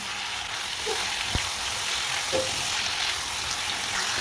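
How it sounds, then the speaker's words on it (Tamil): Chicken pieces fry lightly in oil, a soft, steady sizzle with a few brief clinks from a utensil against the pan, close by and without speech. "இப்போ இதையும் இதே மாதிரியே கொஞ்சம் லேசாக பொரிச்சு எடுத்துக்கலாம்"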